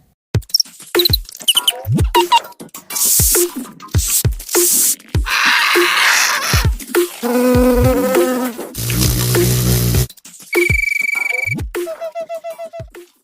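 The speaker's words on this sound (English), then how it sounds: "Ultrasonic Insects by Nicolas Tito features ultrasonic recordings of insects from both France and Madagascar." Ultrasonic recordings of insects from France and Madagascar, a loud, close sequence of varied chirps, ticks, buzzing trills and harsh pulsed rasps that change from one insect to the next, with no talking.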